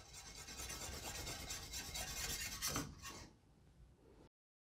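Spoon scraping and rubbing steadily through thick mushroom gravy with Dijon mustard in a pan, a close, soft rasping swirl that fades out near the end.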